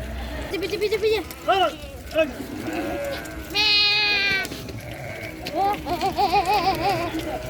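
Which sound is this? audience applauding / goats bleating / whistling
goats bleating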